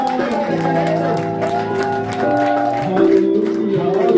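A church congregation cheers and applauds, with a steady wash of clapping and shouting under sustained singing or vocal tones that swell louder toward the end.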